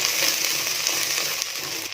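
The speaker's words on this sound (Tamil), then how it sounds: "எல்லாம் நல்லா வதங்கட்டும்." Small shallots, garlic and two green chillies sautéing in oil in a pan for a South Indian kuzhambu, giving a steady, fairly loud sizzle and hiss with no voices.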